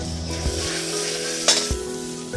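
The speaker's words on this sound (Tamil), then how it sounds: "வெங்காயம் கரெக்டாக வதங்கிடுச்சு." Onion and coriander leaves sautéing in a pan for tomato rice, a soft continuous sizzle broken by a few quick stirring scrapes, with steady tonal background music.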